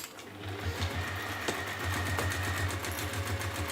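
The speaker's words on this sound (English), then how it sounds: "we're just going to stitch straight down there" A sewing machine runs a straight seam down a big box bag, a steady close mechanical whir with rapid stitching rhythm and a brief slowdown midway.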